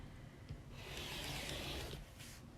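Scissors or a rotary cutter slicing through a fabric binding strip, a quiet, close rasping cut lasting about a second and a half.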